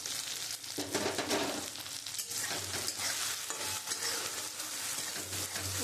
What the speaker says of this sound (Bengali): মশলাটা একটুখানি কষিয়ে নেব।